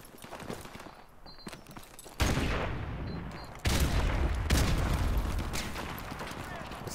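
AK rifle gunfire in Call of Duty: Modern Warfare Remastered, loud sustained automatic bursts kicking in abruptly partway through after quieter game noise, with a voice talking faintly underneath.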